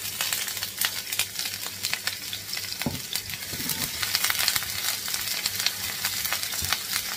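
Chopped onion hitting hot olive oil in a frying pan, a bright steady sizzle with crackling pops and a few stirring knocks, close and continuous without speech.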